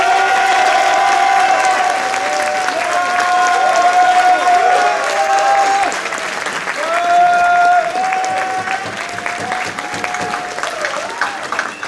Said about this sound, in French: Je vous laisse l'applaudir chaleureusement pour la première fois.